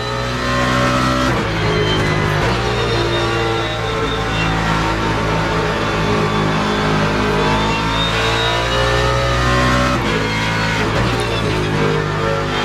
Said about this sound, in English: this is a louder, bit of a louder engine